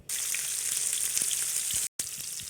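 Fish pieces frying in hot mustard oil in a wok, a close, steady crackling sizzle that cuts out for a moment near the end before resuming.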